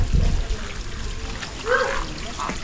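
Monsoon water trickles out from under stones at Lohagad fort, a soft continuous dribbling wash with a few brighter splashy moments, fairly faint and close by.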